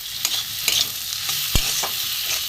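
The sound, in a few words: chili and spices frying and being stirred in pan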